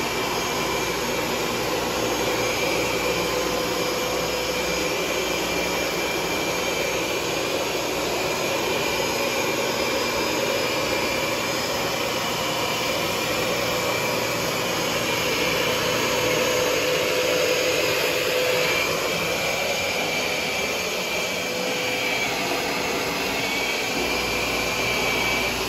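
A Rug Doctor carpet shampoo machine runs continuously, a loud, steady vacuum-like roar with a high whine held throughout, close by and unchanging, with no talk over it.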